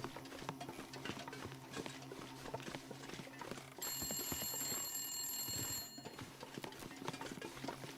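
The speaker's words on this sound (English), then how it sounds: "How the hell is the phone ringing?" An old telephone in The Long Dark rings with a high, bright electronic-bell trill for about two seconds, heard against a busy background of clopping footsteps and game ambience.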